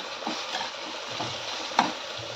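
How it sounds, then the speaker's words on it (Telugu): Onions frying in a pan with salt and ginger garlic paste, a soft continuous sizzle with a few stirring scrapes and one sharper clink, close by with no talking. "మనకి ఇలా ఆనియన్స్ ఫ్రై అవుతున్నప్పుడే కొద్దిగా ఇందులో సాల్ట్ యాడ్ చేసుకొని అలాగే జింజర్ గార్లిక్ పేస్ట్ కూడా యాడ్ చేసేసుకున్నాం"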